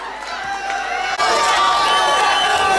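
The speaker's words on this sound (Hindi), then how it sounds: "जोरदार तालियों से उनका स्वागत करें।" College fresher party audience cheering and clapping for a performer, a loud continuous crowd roar with whistles and shouts that swells after a brief dip.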